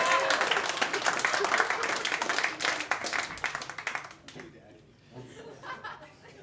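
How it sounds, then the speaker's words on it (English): A comedy club audience breaks into loud clapping and some laughter for a comedian, the applause dense at first, then thinning out and fading after about four seconds into quieter murmuring. "Give him an applause."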